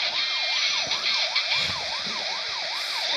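Wailing police car siren from a video game, a steady up-and-down sweep repeating about every half second, loud and continuous with faint game noise underneath.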